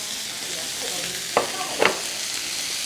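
Seasoned beef stir-frying in a hot pan gives off a steady, dense sizzle, with two brief scraping stirs cutting through near the middle.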